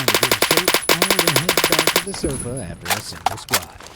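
Rapid automatic gunfire in a multiplayer shooter match, firing in fast rhythmic bursts for about two seconds, then broken off as game sound effects and a few scattered shots continue, loud and close.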